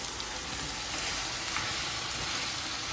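Eggplant frying in a pan with onions gives a dense, steady sizzle that stays close and loud throughout, with no talking over it.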